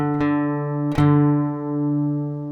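Two guitar strings are plucked and ring at the same pitch, merging into one sustained tone that slowly fades.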